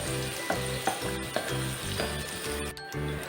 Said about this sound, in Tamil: பூண்டு சேர்த்திட்டு கொஞ்சம் செவக்க வதக்கிக்கலாம்